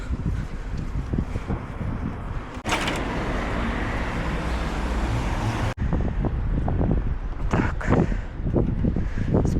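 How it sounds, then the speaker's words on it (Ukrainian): Strong wind roars and buffets the microphone in heavy, continuous gusts, with a rumbling low background and no voices. "бо вітер сьогодні ще сильніший"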